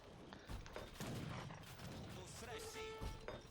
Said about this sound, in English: Oh my goodness, so much cannon.